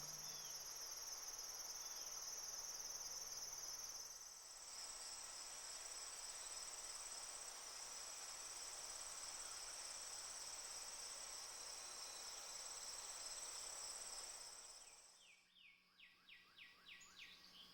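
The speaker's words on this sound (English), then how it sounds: "the bugs and insects are about in full force." Summer insects chirping in a steady, dense, high-pitched chorus that holds evenly for most of the stretch, with a few faint bird calls mixed in before it breaks up into pulsing chirps near the end.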